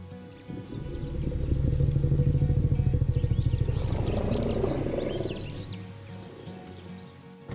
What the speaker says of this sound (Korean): 먼저 한 코끼리가 자신의 이름이 포함된 소리를 들었을 때를 함께 들어보시겠습니다